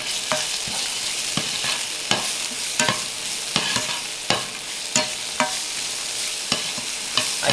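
Ginger and doubanjiang stir-fry in a pan over low heat, a continuous sizzle broken by regular sharp scrapes and taps of a utensil against the pan, close and fairly loud with no talking.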